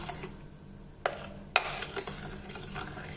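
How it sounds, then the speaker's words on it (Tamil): A spoon scrapes and knocks around a pan of thick homemade tomato sauce as it bubbles over the heat, with a few sharp metallic clinks and a low simmering hiss under the stirring. "இது நல்லா கொதிச்சு வருதுங்க"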